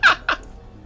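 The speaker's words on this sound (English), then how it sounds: "And whenever you fire the gun, it sounds like this." Two quick bright zapping gun shots from Borderlands 2, a video game, the first burst louder than the second, sounding close and alone.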